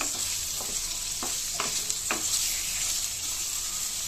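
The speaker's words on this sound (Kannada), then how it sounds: "ಅದೇ ಕಡಾಯಿಗೆ ಈರುಳ್ಳಿ ಹಾಕ್ಕೊತಿದ್ದೀನಿ" Chopped onion goes into the same kadai just used for frying paneer and sizzles steadily, with a few distinct scrapes of stirring spaced through the first couple of seconds over a continuous close hiss.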